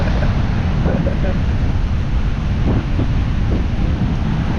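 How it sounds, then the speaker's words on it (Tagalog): Heavy, low wind rumble from strong seaside wind buffets the microphone continuously, with faint surf-like wash underneath and only scattered traces of voices. "Lakas ng hangin"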